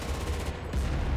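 Machine gun fire in the video game Enlisted, a steady burst of rapid rounds that carries right through the short moment, loud and close with no talking over it.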